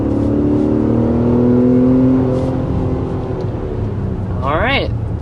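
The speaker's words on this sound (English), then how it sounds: "So there's a quick acceleration in the 2024 QX60." A 2024 Infiniti QX60 V6 engine pulls hard under quick acceleration, a steady loud drone with a rising whine heard from inside the cabin while people talk over it.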